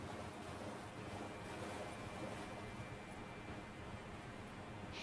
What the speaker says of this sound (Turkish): Şelale.